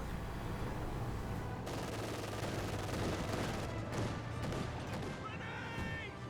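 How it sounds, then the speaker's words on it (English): MG34 machine gun fire in Company of Heroes 2 rattles in dense bursts amid other battlefield gunfire and impacts. The sound is moderately loud and layered, with faint talk underneath. "I think that's the MG34."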